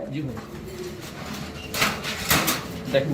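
Exhibition pigeons of blue bar colour cooing at a loft while being handled, soft low coos running steadily under background noise with a few brief rustling bursts.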